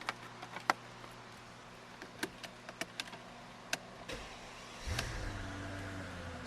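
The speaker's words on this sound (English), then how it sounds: "I'm going to start the car for you just so you can listen to that beautiful V12." A 2005 Mercedes-Benz CL600 twin-turbo V12 cranks and fires up after a few faint clicks, settling into a smooth, quiet low idle.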